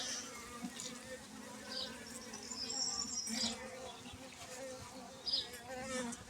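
Honeybees buzz around an opened hive, a soft, continuous hum with individual bees droning past, quiet and close, and a few faint brief noises in the background.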